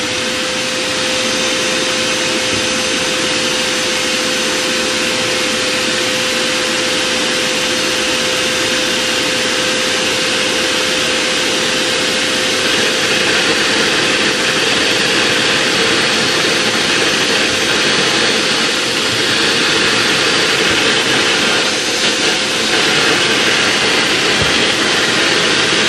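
A homemade vacuum seeder runs continuously, a loud, steady blower roar with a constant whining tone that holds evenly throughout, no talking.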